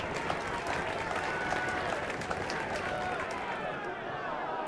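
A crowd in the video game The Lion's Song reacts with a steady wash of clapping and murmuring voices, holding at an even, fairly loud level throughout.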